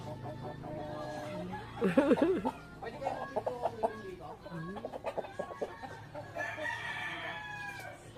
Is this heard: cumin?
no